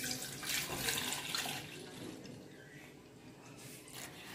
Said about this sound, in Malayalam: ഇത് നമുക്ക് പാൽ ഒഴിക്കാം.